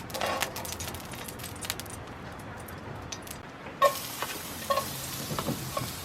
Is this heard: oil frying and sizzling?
yes